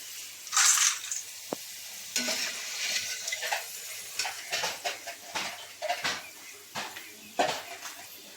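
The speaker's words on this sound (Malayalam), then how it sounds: "ഈ കപ്പയ്ക്ക് നമ്മൾ വറക്കുമ്പോൾ തീ കൂട്ടി തന്നെ ഇട്ട് വേണം ഇത് വറുത്തെടുക്കാൻ" Tapioca chips deep-fry in hot oil over a high flame, with a steady sizzle broken by repeated scraping and clinking as a utensil stirs the pan.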